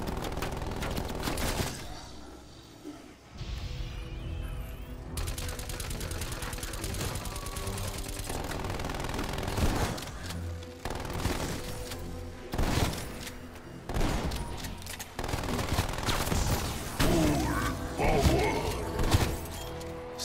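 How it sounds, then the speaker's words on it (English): A sentry turret in an Onslaught raid fires continuous rapid bursts, a dense clattering stream of shots with brief pauses and shattering impacts, loud throughout and mixed with voices. "Placing sentry turret."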